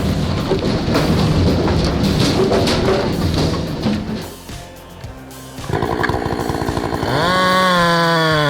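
A big chainsaw on an automatic industrial firewood processing machine screams through logs, a loud continuous rasp that dips briefly and then returns with the engine revving and pitch climbing.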